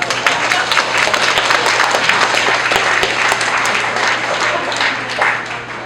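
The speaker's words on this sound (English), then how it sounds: "Clap your hands." Sustained loud applause from an audience at a book launch in the Philippines, dense steady clapping throughout with no speech over it.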